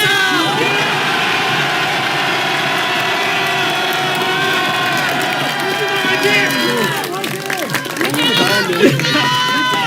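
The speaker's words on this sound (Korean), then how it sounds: "여러분 3초간 전방을 향해 함성 발사!" A crowd at a Korean political campaign rally in the Mokdong market roars in a sustained, loud shout and cheer for several seconds, many voices blending into a continuous bellow that swells slightly toward the end.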